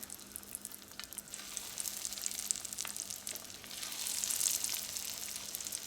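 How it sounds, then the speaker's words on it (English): Steaks dropped into olive oil in a cast iron pan, frying with a continuous soft sizzle that swells slightly toward the end, fairly quiet and steady, with no speech over it. "we're just going to take our steak, and you're just going to drop them in and cook them through on each side"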